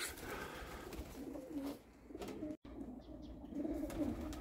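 Pigeons coo near a loft, with low throaty rolling calls repeated in soft bursts over faint background rustle.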